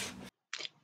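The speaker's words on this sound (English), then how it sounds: "we need to cut our cardstock" Scissors cut through cardstock in two short, crisp snips separated by a brief silence, close and fairly quiet, with the start of a third cut at the very end.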